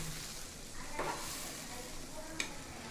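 Fried rui fish being gently stirred into a simmering curry in a pan, giving a soft continuous sizzle with a couple of faint utensil scrapes and clicks.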